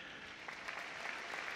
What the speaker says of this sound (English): Generous applause for Dr. Dondina.